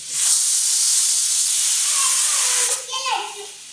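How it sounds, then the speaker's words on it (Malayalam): A pressure cooker full of rice vents a loud, continuous jet of hissing steam up close, which tapers off near the end with a faint voice and a fluttering whistle. "പ്രഷർ കുക്കറിൽ റൈസ് വെക്കുക."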